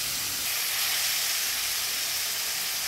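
Broad beans sizzling as they heat in oil, a steady, even hiss that holds from start to finish with no voices over it.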